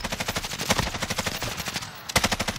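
Rapid automatic gunfire in a multiplayer shooter video game, fast close bursts of shots with a brief pause before another burst.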